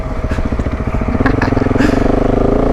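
A KTM 690 Enduro R single-cylinder motorcycle thumps steadily along Government Mountain Road, its engine loud and close with a rapid pulsing beat and brief wind bursts.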